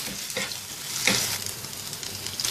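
Garlic-ginger paste stirred in a frying pan for tawa-fried kaleji, a steady close sizzle with scraping stir strokes, one stronger swipe about midway, no voices.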